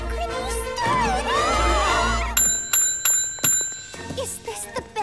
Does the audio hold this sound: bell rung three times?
yes